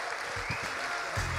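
Audience at a live comedy event claps in a steady, dense burst as a guest walks on stage, loud and continuous for the whole moment.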